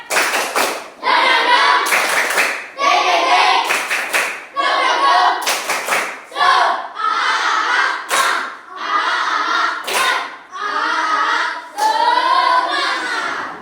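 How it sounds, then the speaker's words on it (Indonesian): A class performs a rhythmic cheer clap in a classroom, loud patterned bursts of clapping in short groups, separated by brief pauses and mixed with shouted chanting voices. "Buat kita tepuk semangatnya dulu. Tepuk semangat."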